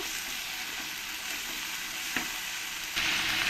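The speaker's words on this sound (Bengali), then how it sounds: "টমেটো পেস্টটা দিয়ে ভালো করে মশলার সঙ্গে মিশিয়ে নেব" Tomato paste gets stirred into spices frying in oil for parwal rosa, an even close sizzle with a single brief scrape and a louder hiss rising near the end.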